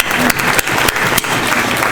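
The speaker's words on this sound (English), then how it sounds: "Everybody give a round of applause for yourself this evening." Brief loud burst of audience applause at a cotillion and beautilion evening event, dense close clapping throughout.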